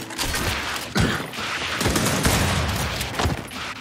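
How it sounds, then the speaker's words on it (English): Dense, continuous bursts of video game gunfire crackle and pop throughout, with a few heavier impacts standing out, loud and close in a two-versus-two wager match. "They're shooting me."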